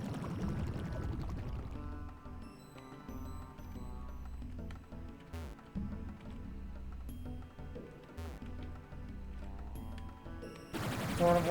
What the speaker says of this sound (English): Torrent of water kicks me out of there.